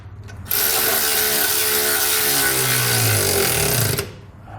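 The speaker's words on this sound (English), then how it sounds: "We're going to use an 11mm socket and wrench to tighten it down." A ratchet wrench with an 11mm socket tightens the mounting bolts of custom-fit side steps on a 2018 Ram 1500 pickup, a rapid continuous clicking for about three and a half seconds, close and loud.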